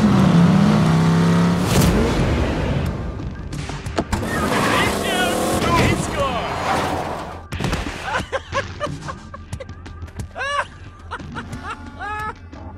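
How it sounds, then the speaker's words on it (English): A car engine revs in the video game Tales from the Borderlands, a loud roaring surge at the start, then rumbling bursts mixed with game sound effects and voices talking. "Let's try revving up the engine a bit and see what this bad boy can do."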